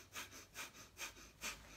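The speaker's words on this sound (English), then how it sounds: "breathing through the nose. It's almost like panting like a dog." Rapid belly breathing through the nose with the mouth closed, like a panting dog, four sharp rhythmic sniffing breaths close to the mic, each followed by a softer pause.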